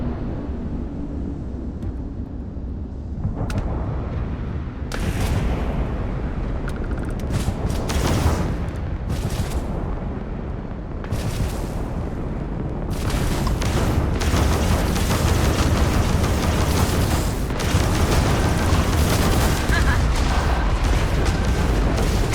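Ship weapons in Starfield space combat fire in dense, continuous booming volleys, heavy bursts and blasts layered over a roaring background, loud and close throughout.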